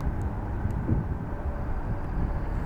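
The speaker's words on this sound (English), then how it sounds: "now here goes the Polish 767 out for departure" A Polish Boeing 767 airliner taxiing out for departure at Dulles airport gives a steady, low engine rumble, heavy in the bass and fairly distant, with wind noise on the microphone and no speech.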